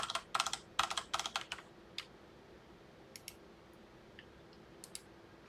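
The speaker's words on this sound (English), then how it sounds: "I gotta type it correctly." Quick bursts of typing on a computer keyboard, crisp close key clicks clustered at the start, then sparser single taps spread out over a quiet background.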